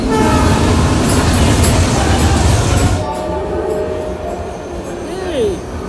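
A passenger train pulls into Surat station, loud rumbling wagons with rail clatter filling the first half, then easing to a quieter hum as it slows, with faint voices in the carriage.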